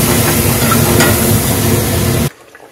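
Ground masala paste sizzling loudly in hot oil in a pan for a mutton curry, a steady close frying hiss with stirring that cuts off abruptly near the end.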